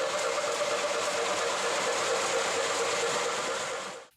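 A continuous hiss and rumble of a model train running steadily, close by, fading out abruptly at the end.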